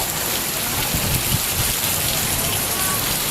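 Steady heavy rain pours down during a thunderstorm with lightning about, a loud, even hiss filling the whole stretch with no break and no distinct thunderclap.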